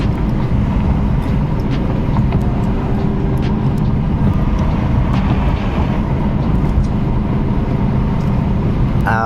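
BMW F82 M4 driving at night, a loud continuous road and engine roar with tire noise filling the cabin steadily, no talk over it.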